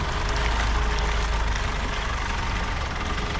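A truck fitted with new off-road tyres creeps forward slowly in first gear, its engine giving a low, steady rumble throughout at close range.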